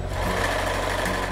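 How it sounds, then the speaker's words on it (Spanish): Sewing machine stitching fabric for a beach bag, a loud, close, continuous motor whir with a fast mechanical buzz and no talking. "y vuelvo a incorporar la parte de la tela y sigo cosiendo."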